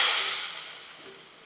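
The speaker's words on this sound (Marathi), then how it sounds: "फोडणी ओतून घेऊया" Hot ghee tempering with cumin and hing poured into a moong dal and drumstick soup, giving a sharp, close sizzle that bursts at once and fades steadily over about a second and a half.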